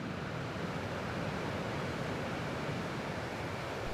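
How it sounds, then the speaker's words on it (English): Floodwater on the Bow River roars over the Carsland Weir, a dense, steady rushing wash that stays constant and loud with no break. "Over here at the Carsland Weir, it was absolutely roaring."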